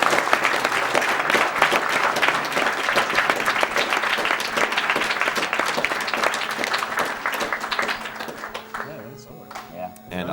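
An audience at the Awesome Games Done Quick 2014 speedrun marathon claps and applauds loudly and steadily for several seconds, a dense wash of hand claps that thins toward the end as a voice speaks.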